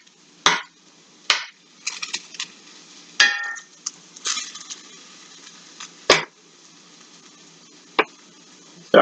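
Turnips and potatoes sauté in a big electric skillet, a low, quiet sizzle broken by sharp, irregular clanks and scrapes of a utensil against the pan.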